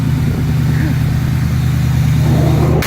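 Chevy truck engine idling steadily after repair work, a continuous low rumble with a faint even throb, loud and close throughout.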